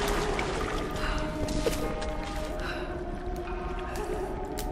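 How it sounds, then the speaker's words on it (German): A character wades through filthy, sewage-like water in Tomb Raider, a continuous sloshing and churning of liquid that stays steady and fairly loud throughout, with a low rumbling ambience beneath. "Ist bestimmt fäkalienhaltiges Wasser."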